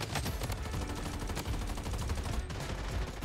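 Rapid, dense automatic gunfire in the video game Bloodstrike, continuous close bursts of assault rifle shots rattling without pause throughout.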